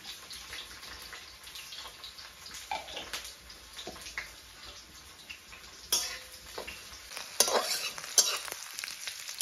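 Dried chillies, bay leaves and panch phoron, with onion, frying in oil in a pan, a soft ongoing sizzle with intermittent stirring scrapes and clinks growing sharper toward the end.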